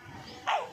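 A pet puppy lets out one short, sharp yip of a bark, close but fairly soft, after a moment of quiet room noise.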